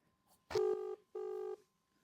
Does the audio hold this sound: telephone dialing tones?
yes